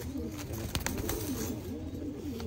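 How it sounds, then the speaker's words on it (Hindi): Lakhy pigeons coo steadily in a loft, their soft repeated throaty calls overlapping under a constant background hiss, with a few faint clicks. "कबूतर इस वक्त क्रीज पे हैं।"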